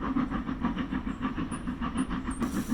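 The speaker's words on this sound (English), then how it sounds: "Here comes the steam train now." A steam train passes along the bottom of a field near a farm: a steady rhythmic chuffing and rumble with a regular pulsing beat, heard from a moderate distance, with a brief hiss near the end.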